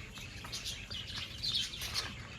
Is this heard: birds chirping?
yes